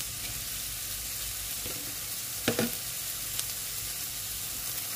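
Onions with green chilli powder fry in hot oil, giving a soft, steady sizzle close by, with a few brief clinks of stirring.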